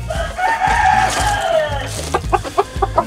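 A Shamo rooster crows once in a long drawn call, then gives a quick run of sharp clucks, close and loud, with no talking.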